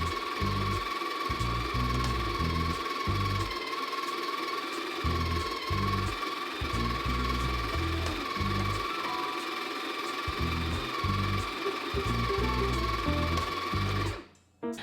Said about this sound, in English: now I'm just going to push the portafilter to start grinding